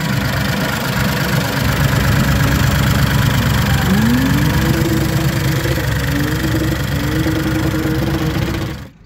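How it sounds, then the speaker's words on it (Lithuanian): A BMW 745i E65 engine runs steadily at close range, a loud continuous idle with a rhythmic knocking tick through it, a brief pitch rise midway, then it cuts off at the end. "garsai iš variklio tai žiauru."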